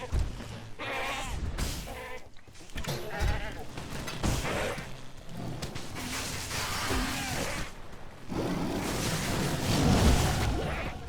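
Goat mini-boss bleating in the game Path of Exile, a wavering, repeated bleat over busy battle noise, fairly loud throughout.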